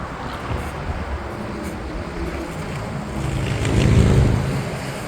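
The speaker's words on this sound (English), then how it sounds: "whitecaps on the river. You can tell it's windy today." Steady wind rush with water slapping and churning as whitecaps form on the Columbia River, swelling louder for a moment near the end; no voices.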